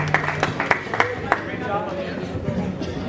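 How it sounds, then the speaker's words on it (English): An audience gives scattered, brisk applause for a speaker being introduced. The clapping is heaviest in the first second and a half, then thins out under talking and chatter. "Ladies and gentlemen, put your hands together for Mr."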